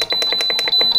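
An oven timer beeps in a home kitchen while a 2-minute timer is set for reheating pizza: a fast run of loud, shrill electronic pips, evenly spaced, close and alone.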